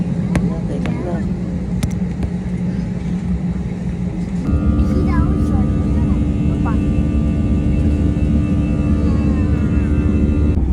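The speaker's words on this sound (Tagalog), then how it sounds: "lalapag ng aming eroplano dahil andito na kami sa Narita Airport" Airplane landing at Narita Airport, heard from inside the cabin as a loud steady engine drone and rumble that steps up in pitch and volume partway through, with voices talking under it.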